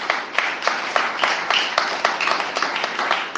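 Congregation at a prayer session applauding, dense crisp clapping from many hands with steady pulses, fairly close and continuous.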